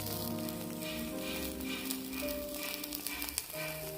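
Steady sizzling of curry leaves roasting in a hot pan, a continuous crackle with a few sharper pops toward the end.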